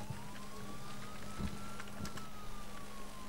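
A police siren in GTA San Andreas Multiplayer wails in a slow, steady sweep at moderate distance. It plays over a constant low engine drone, with a few faint clicks scattered through it and no talk.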